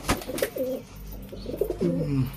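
Pigeons in a loft give soft, repeated throaty coos, several overlapping calls close by over a brief stretch, with no speech.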